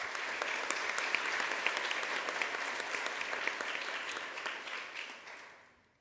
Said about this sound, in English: So once again, another round of applause